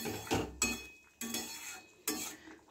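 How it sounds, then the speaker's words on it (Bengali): A spoon stirs silver carp pieces in a pan of mustard-poppy seed curry, with three or four quick scraping, clinking strokes against the pan, close and fairly loud. "মাছগুলো একটু নেড়ে দেবো।"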